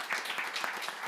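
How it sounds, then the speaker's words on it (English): A seated audience gives a panel a round of applause at an evening festival at a Napa Valley winery, a brief patter of clapping heard from a distance, soft and steady. "can we have a round of applause for our panel?"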